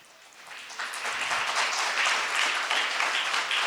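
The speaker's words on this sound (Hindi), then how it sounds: "समस्त राष्ट्रों तालियां बजाओ" A church congregation at a Bible talk claps together, the applause swelling in after a quiet start and then continuing as a dense, steady patter to the end, with no speech over it.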